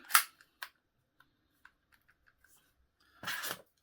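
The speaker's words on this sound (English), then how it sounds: "You have to pull the bolt back a bit to release before you put it back on safety." A KWA KZ61 Skorpion airsoft gun gives a sharp metallic click, a second click, a few faint ticks, and then a longer rattling scrape as its bolt is pulled back. The sounds are close and isolated against quiet.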